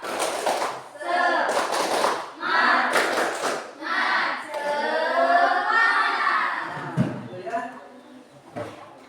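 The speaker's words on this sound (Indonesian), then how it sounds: "1 kali lagi tepuk semangatnya." A class of students claps out a rhythmic spirit cheer in short bursts, while a teacher's voice talks over and between the claps.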